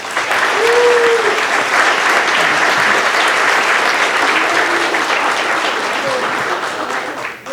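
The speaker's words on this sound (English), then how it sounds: "Let's give them a round of applause" Steady, loud applause from a commencement audience at the 2024 University of Alaska Southeast Sitka graduation, sustained evenly for several seconds with a few faint voices mixed in before it begins to taper.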